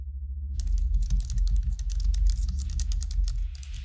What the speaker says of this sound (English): Callahan is typing furiously by the sounds of it.